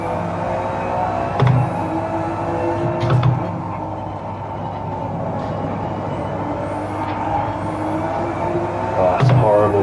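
Racing cars, including a Viper, run in Gran Turismo 7 with a continuous engine drone and occasional sharp mechanical transients. The sound stays steady and moderately loud throughout.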